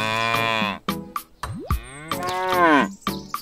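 Cartoonish cows moo repeatedly in a farming video game, several drawn-out calls in a row with short gaps, loud and close with no talking.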